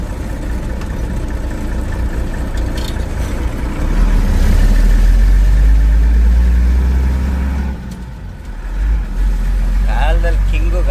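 An SL truck's engine runs steadily and loudly, with a deep low rumble that swells partway through and then eases. Voices are heard briefly over it.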